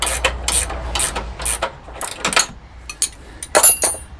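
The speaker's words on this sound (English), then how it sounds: "I'm just undoing the lower trailing arm control arm bolt with a couple of 18mm spanners" An 18mm spanner ratchets on a BMW M3 lower trailing control arm bolt during a spring swap, with loud close bursts of clicking pawl sounds in quick repeated strokes and short pauses between.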